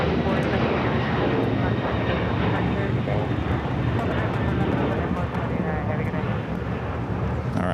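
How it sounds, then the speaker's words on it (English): A LATAM Boeing 767-300ER bound for Lima rolls down runway 25 Right at LAX for takeoff, its jet engines producing a loud, continuous, broadband roar that stays strong and steady throughout. "Latam, a 767-300ER now rolling down"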